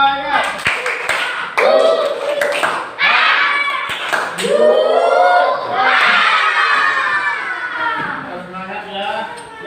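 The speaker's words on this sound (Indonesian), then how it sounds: "Ayo kita tepuk semangat dulu." Schoolchildren in a classroom perform a rhythmic spirit clap chant, sharp clap bursts alternating with loud shouted group chanting and cheering, energetic and close, the children's voices dominating between claps.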